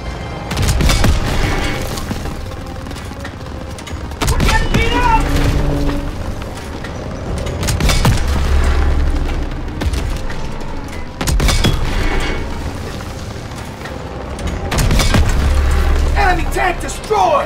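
Explosions and gunfire as a Panzer tank is destroyed in Call of Duty WW2: heavy booms and bursts of shooting arrive in repeated loud waves, with shouted voices over the combat.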